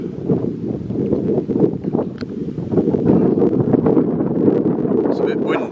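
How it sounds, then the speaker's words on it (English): Gusty wind buffets the microphone on an open countryside hilltop in Ceredigion, Wales, a continuous rough rumble that strengthens partway through, with muffled voices faintly underneath. "it's a bit windy."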